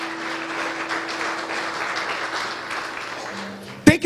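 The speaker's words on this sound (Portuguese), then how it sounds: "Pode aplaudir e glorificá-lo." Sustained applause from a church congregation, a steady wash of clapping that holds evenly throughout, ending with a brief louder burst.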